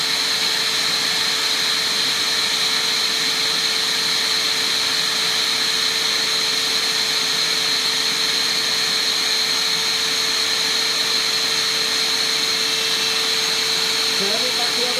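The vacuum motor of a Moth Mark II Pro record cleaning machine drones with a constant, loud whining roar for the whole stretch; a brief voice comes in near the end.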